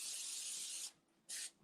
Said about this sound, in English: Gonna spray this